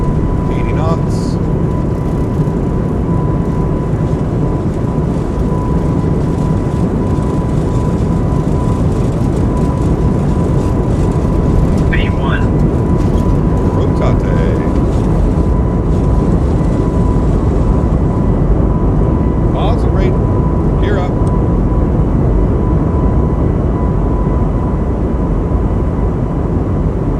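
Airbus A220 airliner jet engines at takeoff power on a cold day, a loud, steady broadband roar with a faint constant tone, continuous throughout with occasional brief clicks over the top.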